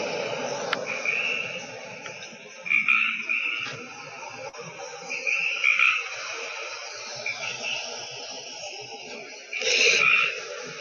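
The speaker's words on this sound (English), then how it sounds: "We start with frogs." Frogs croak in repeated bursts of several calls, separated by short pauses and heard at moderate distance with no talking.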